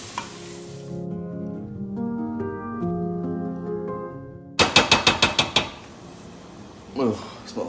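Bacon and onions fry in a pot for creamy potato soup. Background music plays first, then a burst of quick rhythmic scraping stirs rings out over a continuous sizzle.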